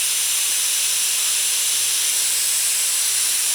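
Steam hisses out of an Afghan pressure cooker in a loud, steady, unbroken rush of hiss that holds at the same level the whole time.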